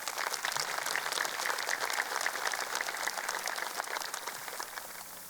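Crowd at a high school graduation ceremony gives a round of applause for the junior marshals, a steady, distant-sounding wash of clapping that holds throughout.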